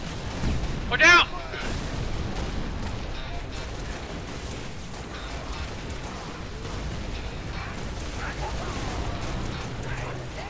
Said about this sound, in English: That elite is taking like 50 shots from a DMR.